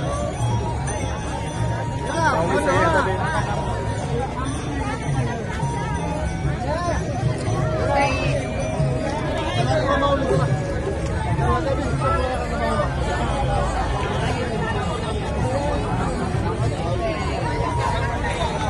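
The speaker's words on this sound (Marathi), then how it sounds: "भरपूर गर्दी झालेली आता." A dense crowd chatters around a roadside tea and poha distribution stall during a pilgrimage procession, a steady loud babble of many voices with faint clinks mixed in.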